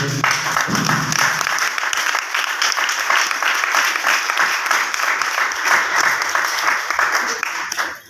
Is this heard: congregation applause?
yes